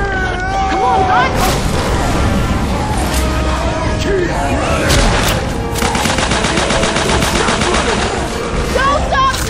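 Loud, continuous gunfire while fighting zombie hordes in Left 4 Dead 2, with overlapping rapid shots, bangs and shouting voices throughout the chaotic firefight.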